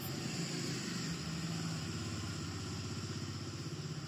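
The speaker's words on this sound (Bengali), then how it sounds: "বাইকটা একটু বেরিয়ে যাক তারপরে তোমাদেরকে বলছি" A motorcycle engine running at a Bajaj service center, a steady low throbbing idle-like rumble with a faint high whine above it, continuous and moderately close, no talking.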